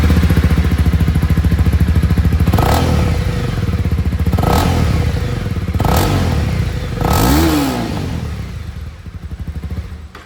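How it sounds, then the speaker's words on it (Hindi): A Honda CB300R motorcycle engine running loud and close, a throbbing exhaust rumble rising in several sharp revs and dropping back between them, heard alone without talk. "और अब मैं आप लोगों को यहाँ पर CB300R की जो आवाज़ है वो भी सुना दूँ।"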